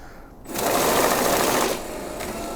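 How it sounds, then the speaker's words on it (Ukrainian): A Magner 150 banknote sorter counting mixed notes in mix mode, a loud close rapid whirring flutter of bills feeding through the machine for about a second, then a lower running hum. "просто вмикаємо мікс і знову рахуємо купюри в будь-якому порядку"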